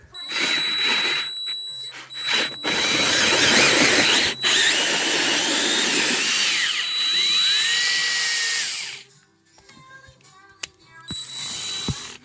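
A power drill whirs steadily for several seconds with a grinding, ratcheting edge as it bores through the leather of an electric reclining couch, then stops; brief mechanical clicks and handling noises follow.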